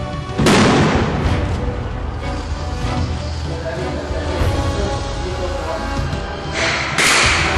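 A simulated bombing explosion during a disaster-response exercise: a loud, sudden boom near the start and another near the end, with heavy rumbling between, while people talk.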